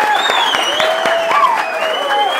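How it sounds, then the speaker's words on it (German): Dense applause with scattered claps at a boxing weigh-in fills the clip, while sustained whistle-like tones sound over the clapping crowd. "Macht's mal Applaus für den jungen Mann."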